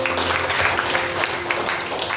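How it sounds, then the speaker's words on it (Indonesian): A congregation at a church service applauds together, a dense, steady wash of many hands clapping throughout. "Tepuk tangan dulu buat Tuhan"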